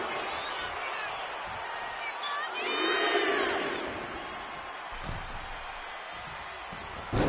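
Arena crowd in a WWE wrestling video game cheers in a broad, roaring wash that peaks near the middle and fades. An announcer talks over it and sharp thuds land near the end.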